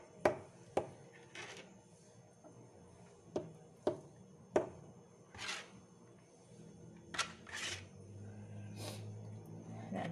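Knife chopping through tuna, mushroom and egg sandwich ingredients on a cutting board at home: several sharp, close taps spaced irregularly, then softer scraping and rustling toward the end, with no voices.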